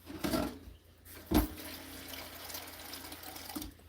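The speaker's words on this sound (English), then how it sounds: "just going to add a little water." Water is splashed into a ground beef chow mein casserole mixture in a kitchen, two brief pouring bursts followed by a quieter trickle, close and moderately loud.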